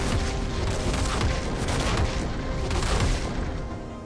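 Gangplank's Cannon Barrage ultimate in League of Legends fires a dense, continuous volley of cannon booms and explosions that rumble loudly for several seconds before easing slightly at the end, with no speech.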